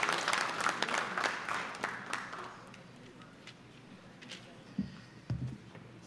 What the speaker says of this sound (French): On applaudit cette belle page d'histoire.